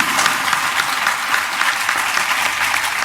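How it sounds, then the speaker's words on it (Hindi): A satsang audience claps along in a devotional gathering, a steady wash of close, loud hand clapping with a rhythmic pulse running throughout. "ताली ढीली मत पटको यार"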